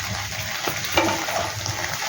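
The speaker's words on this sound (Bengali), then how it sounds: "ততক্ষণ আমি ভেন্ডিটা ভাজা হচ্ছে ওটা দেখাচ্ছি" Okra frying in a pan gives a steady, close sizzle with light stirring scrapes throughout.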